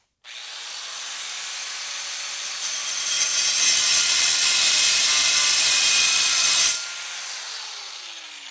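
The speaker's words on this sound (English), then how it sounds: "It's the wrong grinder." A grinder is being used on a rusty old HEMI hot rod. It starts abruptly with a loud, steady, high-pitched whine that runs for several seconds, then drops off and winds down, with no talking over it.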